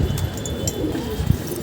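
A pigeon gives low cooing calls in short bursts, moderately close, with a few faint knocks and background noise but no speech.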